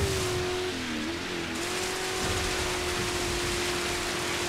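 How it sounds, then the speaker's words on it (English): Steady rain hisses over a racing car's droning engine in the off-road racing game Dirt 5, a broadband wash with no distinct thunder clap standing out. "And it's raining and it's thundering."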